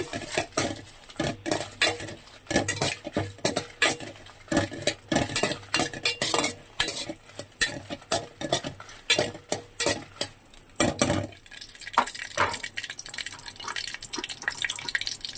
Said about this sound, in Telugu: ఎండుమిరకాయలు వేయించుకోవాలి ఆయిల్లో చూడండి ఎండుమిరకాయలు వేసుకుని దోరగా ఫ్రై చేసుకోవాలండి